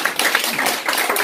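An audience at a political forum on North Korean nuclear issues claps in a dense, steady burst of applause, close and loud, lasting about a second with no speech over it.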